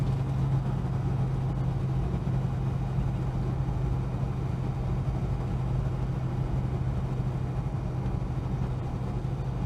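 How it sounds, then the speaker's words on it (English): A Holden HK's engine idles steadily with a low, even rumble, a constant electrical buzz from its faulty ignition coil running through it close by, with no voices. "Yeah, that coil's really buzzy. It's a buzzing coil."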